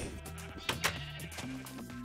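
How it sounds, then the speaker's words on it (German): Sheep bleating in the video game Minecraft, several wavering bleats over a steady background of layered game music and ambience, moderately loud and continuous. "Wir haben jede Menge Nachwuchsschafe."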